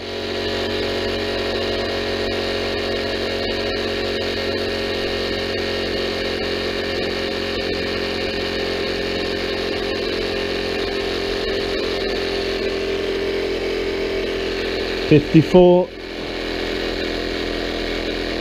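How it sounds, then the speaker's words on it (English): A steady electric tyre pump hum drones on continuously, close and even, then sputters briefly near the end with a few uneven bursts as its battery runs low. "I'm going to wait till the pump stops, because otherwise I'll have to shout."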